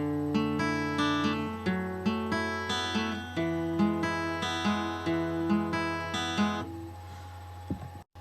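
An acoustic guitar plucks a steady, repeating fingerpicking pattern of single notes over ringing bass, close and clear, ending with a faint touch on the strings.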